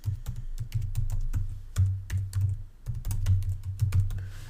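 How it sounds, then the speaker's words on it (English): Rapid clicking of computer keyboard keys as an email address is typed into a Google sign-in form, a steady close run of keystrokes in short bursts with brief pauses, no voices. "So here I'm going to type in my test Google email"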